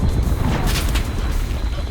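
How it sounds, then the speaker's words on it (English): Fireworks going off everywhere in a vehicle combat video game, a dense barrage of loud booms and crackling bursts over a heavy low rumble, one sharper blast near the middle. "There's freaking fireworks going off everywhere."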